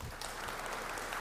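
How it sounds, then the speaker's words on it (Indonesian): Audience applause at a presidential address, a brief, faint, even wash of many hands clapping from a distance. "tepuk tangan"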